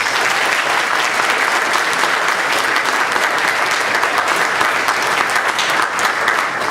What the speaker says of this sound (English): Everybody give Emily a big round of applause.